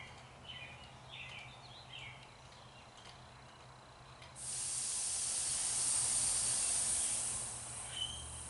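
Compressed air hisses through a regulator into a car's coolant system during a leak check: a faint hiss at first, then a louder, steady rush after a few seconds as the valve opens further, close and without talking.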